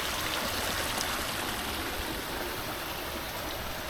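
A garden pond waterfall tumbling over a jump rock gives a steady, loud rushing and splashing wash of water that runs unbroken throughout, with no voices.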